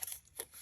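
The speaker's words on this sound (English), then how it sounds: "I'm just going to use my scissors to do this bit" Scissors snipping through paper in a craft room, a few quiet, quick cuts close by with soft crisp bursts and no talk.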